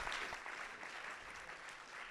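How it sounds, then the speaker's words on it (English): An audience at a hackathon event applauds the top four teams. The clapping is fairly faint and steady and carries through the whole moment, with no voice on top of it. "Please a round of applause for our top 4 teams."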